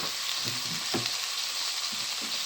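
Green peas are added to a pan of frying samosa filling and give off a constant, loud, close sizzle, with a few soft stirring thumps beneath it and no speech.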